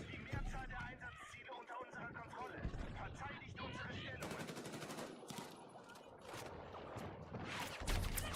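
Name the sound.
gunfire in the video game Battlefield 6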